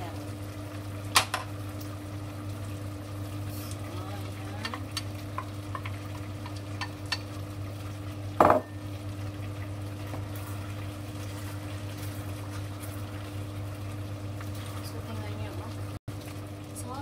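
Potatoes, carrots and celery simmer in a pot for a pork rib dish, a steady low bubbling hum broken by occasional clinks and one louder clatter of utensils or a lid, while a voice talks.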